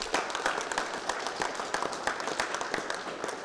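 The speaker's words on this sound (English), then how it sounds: "So a round of applause for them too." A crowd gives a round of applause to the Canadian team at the closing ceremony of a Canada vs USA college all-star cricket match, steady scattered clapping, fairly soft and distant, with no talk over it.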